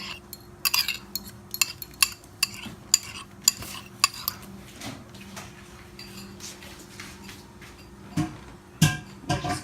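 Metal utensil scraping and clinking against a pot while stirring bechamel sauce for Egyptian pasta, irregular sharp clinks over a low steady hum, with no voices.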